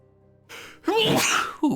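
A single sharp human sneeze with a short breathy intake before it and a brief vocal sound right after, close and clear over near silence.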